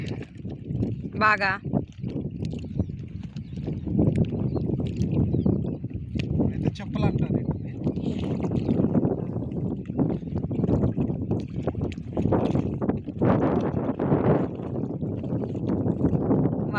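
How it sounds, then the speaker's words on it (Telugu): Strong wind buffets a small fishing boat out netting, a continuous rough rumble that gusts and swells throughout. Someone talks over it, and a brief bird-like chirp sounds early. "గాలి ఎక్కువ కొడుతుందండి"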